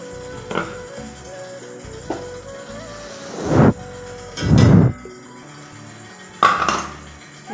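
Steamed millet idlis come out of a metal steamer: a few light metallic taps and clinks of the pot and plates, then bursts of hissing steam as the lid lifts, all fairly close and with no talking.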